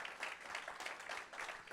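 A church congregation applauding, brief soft clapping in uneven bursts, fairly faint and distant.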